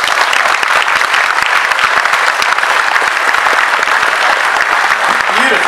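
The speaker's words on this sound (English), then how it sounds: "Another round of applause." Sustained, loud applause from an evening audience at an engineering awards ceremony in a Hilton ballroom, dense steady clapping filling the whole stretch with a faint murmur of crowd voices beneath.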